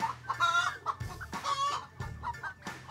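Layer chickens clucking nearby on a farm in Cebu in short repeated bursts, several birds calling over one another with low murmuring clucks underneath.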